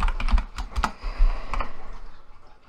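Fingers tap out a short word on a computer keyboard, a quick run of crisp, close keystrokes in an irregular rhythm with no one speaking.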